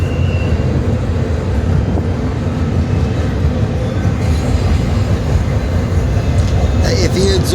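An intermodal freight train with a heritage locomotive rolls past in Kenova, West Virginia, a loud steady rumble of wheels and cars with squeals near the end.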